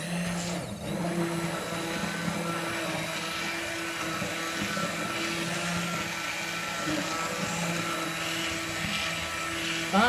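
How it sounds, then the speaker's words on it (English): Stick mixer blending hot broccoli cream soup made in an Instant Pot, a steady whirring motor drone running continuously for about ten seconds, close and fairly loud with little change in pitch. "I have my stick mixer plugged in, and I'm going to quickly mix this up."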